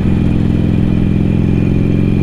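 A Harley-Davidson Iron 883 motorcycle carries two riders toward a highway, its engine a loud, steady, close low rumble with a continuous droning hum and no pauses.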